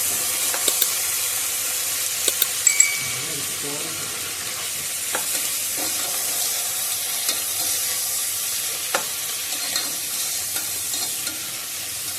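Onions and mint sautéing in a pan for chicken biryani, a continuous steady sizzle with occasional light clicks of a stirring spoon, close and even.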